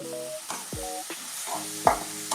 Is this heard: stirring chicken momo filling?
yes